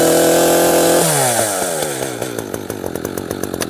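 An Echo CS-4910 or CS-590 chainsaw roars loudly up close, then its engine note falls away and settles into a throbbing, pulsing idle.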